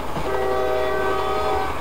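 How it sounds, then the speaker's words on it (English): A train arriving in the Roblox game Jailbreak, with a loud, steady horn tone holding over a rumbling rail noise throughout the short stretch. "So, okay, here comes the train."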